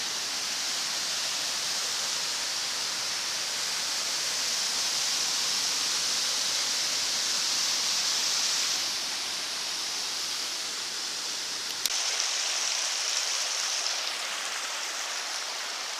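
Upper Seneca Falls on Seneca Creek at Spruce Knob, West Virginia, a gentle waterfall giving a steady, broad rushing roar that stays near and even throughout with no voices.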